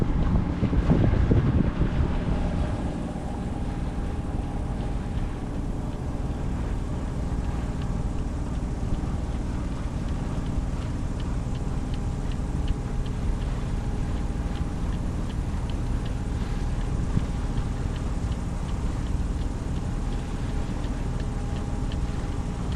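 Steady wind rushes over a sailboat under a little sail, a continuous broad roar with microphone buffeting, loudest in the first couple of seconds, then evening out into a constant wash with no voices.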